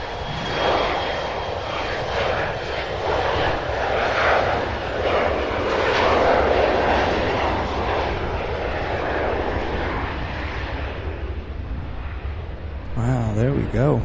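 A United airliner arriving from Chicago lands on runway 18 center at Cincinnati/Northern Kentucky Airport (CVG), its jet engines producing a loud, sustained roar that swells and then eases, with a voice briefly audible near the end.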